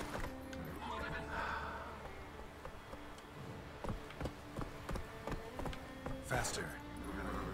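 Roach, a horse in the game The Witcher 3, neighs and gallops; whinnies and steady hoofbeats sit under a continuous game soundscape with buzzing insects, with someone talking over them.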